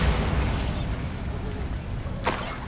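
A blasting spell fired in a Harry Potter video game, a loud booming explosion with a rushing roar that rumbles on and fades, followed by a sharp whooshing crack near the end.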